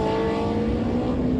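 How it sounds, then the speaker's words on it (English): GT3 and GT4 race cars scream around the Porsche Dipper at Hampton Downs, a loud, steady, high-revving engine whine holding a sustained tone for a brief moment without voices. "stack of cars screaming around the Porsche Dipper."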